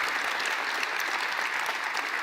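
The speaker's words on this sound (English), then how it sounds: "A round of applause for Mayor Elizabeth Couts." Sustained applause from a civic gathering's audience for Mayor Elizabeth Couts, a dense, even clapping texture throughout.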